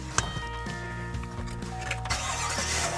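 A 2021 Chevy gasoline pickup truck on fuel wheels and 35-inch tires, its engine starting with a sharp catch and then settling into a steady close idle hum.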